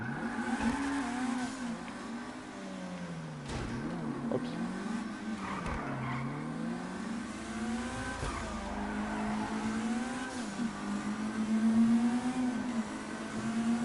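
Car in GTA V revving loudly with a rising and falling engine whine, tires squealing and skidding at intervals, up close and continuous, with a single brief spoken exclamation.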